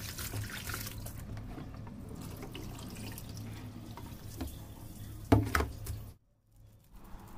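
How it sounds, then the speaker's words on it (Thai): Pork intestines being rinsed under running water in a sink, with a steady tap flow and splashing handling noises throughout, a brief louder splash near the end before the water cuts off. "ล่างหลายน้ำเลยค่ะ"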